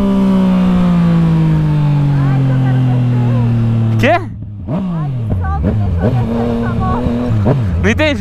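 A motorcycle rev rises and falls as it accelerates, its whine sweeping up and down with a sudden drop partway through, while someone talks and exclaims loudly close by.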